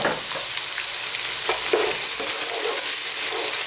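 Chopped onions, garlic and ginger fry in a hot pan on medium heat for a vegan Indian vegetable dish, giving a steady, close sizzle with a few stirring scrapes.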